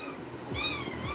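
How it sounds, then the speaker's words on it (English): A cat gives a single drawn-out meow midway through, fairly soft and close, over a low steady background hum. "There's a cat in here."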